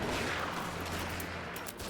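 Prussian troops fire in the video game Between Empires, producing a dense, continuous crackle of massed gunfire that stays loud and rough from start to finish.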